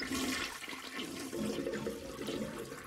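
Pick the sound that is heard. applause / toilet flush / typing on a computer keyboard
toilet flush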